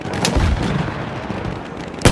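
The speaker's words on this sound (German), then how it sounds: "Feindliches Maschinengewehr!" Enemy machine gun fire in the World War I shooter Battlefield 1, heard as dense, loud battlefield gunfire and booming artillery with a sharp close shot near the end, no voices.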